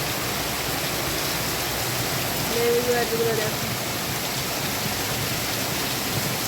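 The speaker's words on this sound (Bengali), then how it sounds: "যেমন বৃষ্টি হচ্ছে অজর ধারায়" Heavy rain pours steadily over a Bengal village garden with lemon and mango trees, a continuous dense hiss throughout, while a person talks briefly over it.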